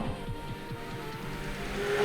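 A Porsche 991 GT3 sports car engine revs steadily with a low, rhythmic throb that builds slightly in loudness over about two seconds, heard alone without talk.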